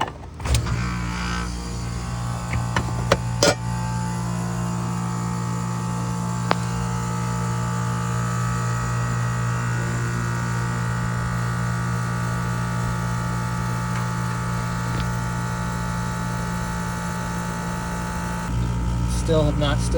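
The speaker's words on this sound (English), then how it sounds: "Let's go ahead and fire her up." Constant droning hum of an air conditioning compressor unit running after startup with gauges hooked up, steady and fairly loud for the whole stretch, with a few clicks near the start.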